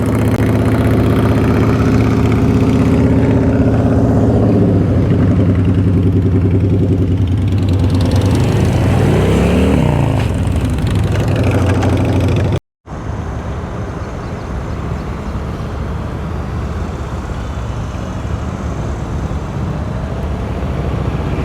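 A motorcycle engine drones steadily up close during slow-speed riding practice in Knoxville, Tennessee, with slight throttle changes, a brief cut near the middle, then a continuous rougher running sound.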